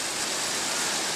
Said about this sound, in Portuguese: Olha o barulho da chuva